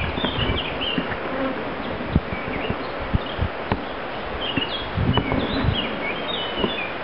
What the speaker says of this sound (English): My bees, just 3 hives at the moment.